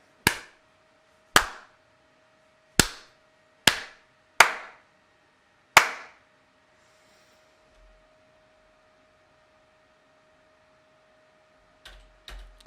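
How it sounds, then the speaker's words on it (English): Six sharp, close hand claps at irregular intervals in a quiet room, made to trigger a microphone clap switch circuit, followed by silence and two fainter claps at the end. "So this way, clapping should like turn on the lights permanently."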